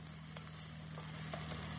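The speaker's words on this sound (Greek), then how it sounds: "Πάντα τσιγαρίζω λίγο το μπελτέ στην αρχή να βγάλει την φύγη αψάδα του." Tomato paste sizzling as it is sautéed in a pan, a faint, steady frying hiss with soft scattered crackles under a low hum, with no voices.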